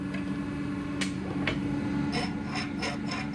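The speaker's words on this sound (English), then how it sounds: "I'm using a flat file to square off the internal edges of the windows." A flat file rasps steadily against the steel of a saw blade being made into a katana, squaring the internal edges of cut-out windows, with continuous close scraping and a few sharper strokes standing out.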